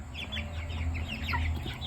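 Three-week-old Cornish Cross meat chickens clucking and peeping in a busy cluster of soft, overlapping calls over a low steady hum, fairly close.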